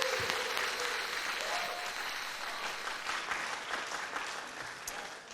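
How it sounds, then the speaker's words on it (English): A town hall audience in Tamale breaks into applause, a dense, continuous roar of many hands clapping at moderate volume, with no one speaking over it. "So, ladies and gentlemen, please, a big round of applause for yourselves."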